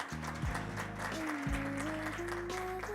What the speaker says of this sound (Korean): 한종화 이사장님께 다시 한번 큰 박수 부탁드립니다